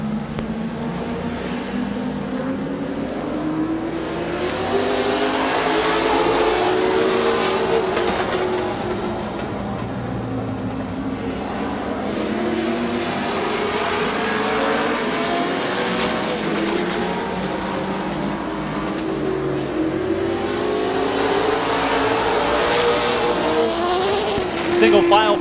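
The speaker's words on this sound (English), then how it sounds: "Single file formation as this second heat race is underway." Race cars in a heat race at Midvale Speedway, their engines roaring continuously as a pack circles the oval, swelling and fading as they pass, with crowd and track noise around them.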